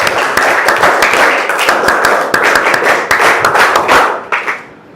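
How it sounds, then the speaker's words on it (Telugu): A group of children clap together in a classroom, with dense, fast, overlapping hand claps that are loud and continuous for about four seconds before trailing off into a few scattered claps. "ఒకేసారి చప్పట్లు కొట్టిస్తాం"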